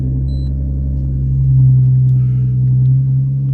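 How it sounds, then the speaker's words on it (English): A supercharged Audi engine idles with a deep, steady rumble through a loud exhaust, swelling slightly midway as if lightly revved, close and continuous with no talking. "Wow, that's a loud exhaust."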